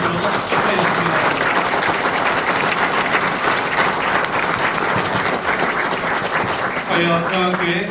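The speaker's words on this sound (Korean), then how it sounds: "교회 박수로 축하했습니다" A church congregation applauds the founding of a new Korean Presbyterian church during its dedication service, sustained, loud clapping throughout, with a voice or music rising briefly near the end.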